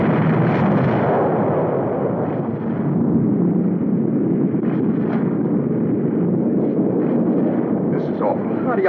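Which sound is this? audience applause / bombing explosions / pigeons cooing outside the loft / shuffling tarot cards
bombing explosions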